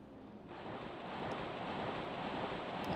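In King's Field II, rushing water gives a steady, broad roar of moderate loudness that swells slightly after a moment and holds continuously, with no voices.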